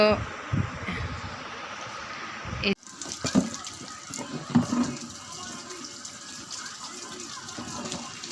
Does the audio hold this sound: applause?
no